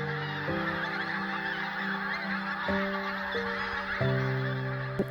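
Pink-footed geese honk at the Loch of Strathbeg nature reserve in Scotland, a flock calling in several loud, clear bursts close by over a steady wash of background noise.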